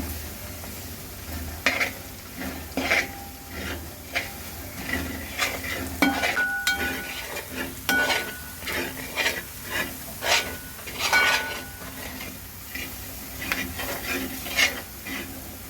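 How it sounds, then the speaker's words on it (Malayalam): Masala for beef pickle is sautéed and stirred in a pan, with a soft sizzle under repeated scraping strokes of a spoon against the metal in an irregular rhythm, close and fairly quiet. "നമ്മുടെ മസാലയൊക്കെ അങ്ങനെ നന്നായിട്ട് വഴറ്റി വന്നിട്ടുണ്ട്"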